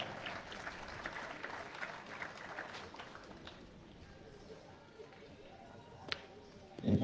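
Spectators applaud at a women's triples pétanque semi-final in Espalion, moderate scattered clapping at some distance that thins out and fades midway, followed by a sharp loud thump at the end.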